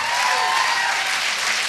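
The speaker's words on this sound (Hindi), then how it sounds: "मैं चाहूंगा कि इनके लिए जोरदार ताली हो जाए।" An audience bursts into loud applause, dense steady clapping from many hands filling the whole short stretch at close range.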